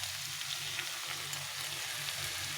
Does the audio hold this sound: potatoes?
yes